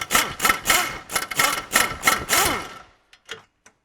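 A power tool, likely an impact wrench, loosens the outboard toe link bolt on a 2010 Ford Explorer Sport Trac. It fires in loud, rapid repeated bursts, then stops with a few faint clicks.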